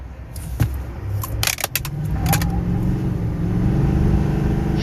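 A 2024 GMC Sierra 2500 AT4X diesel pickup with a 10-speed transmission accelerates, its engine rising into a steady, strong drone that holds loud and close throughout, with a few brief rattles and clicks near the start.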